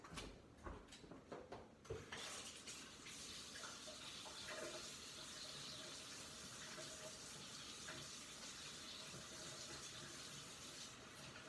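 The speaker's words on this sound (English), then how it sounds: "let me just double wash my hands" Water runs steadily from a kitchen tap while hands are washed, a constant broadband rush with a few brief clatters near the start, then an even, close stream lasting about ten seconds.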